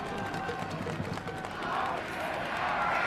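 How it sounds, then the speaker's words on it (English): A college football stadium crowd at an Illinois State Redbirds versus New Hampshire Wildcats game roars and chants for a senior wide receiver, a distant, steady crowd noise that swells toward the end. "Listen to the crowd."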